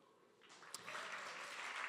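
Audience applause at a university president's talk at a SXSW food event, a soft, steady wash of clapping that swells in after a brief pause and holds at a moderate, fairly distant level.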